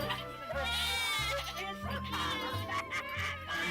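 Fiber goats on a farm bleat in a series of wavering, nasal calls that overlap one another at close range, with brief pauses between cries and no clear talking.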